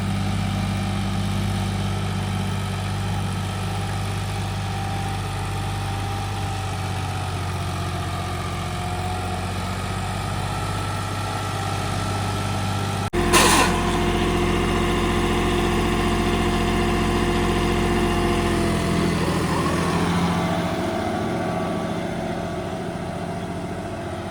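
A John Deere 5210 4x4 tractor engine runs steadily at a low, even drone, with a sharp clunk about halfway through as the gears are changed, then the tone shifts and carries on alone with no voices.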